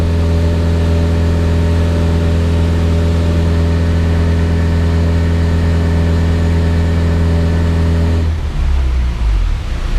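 A Honda Integra with a swapped F20 engine holds a steady, loud, droning tone at full throttle around 2500 RPM before the note drops and changes near the end.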